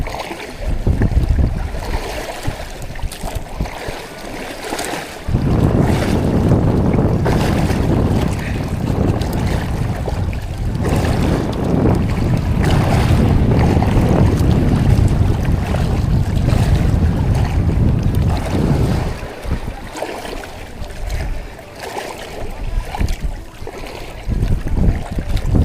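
Rough sea waves and strong wind buffet a small fishing boat out catching tamban sardines, a loud sustained roar of wind and water rising and falling with the swell.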